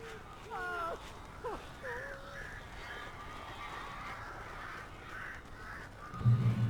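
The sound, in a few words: crows cawing in Alan Wake Remastered video game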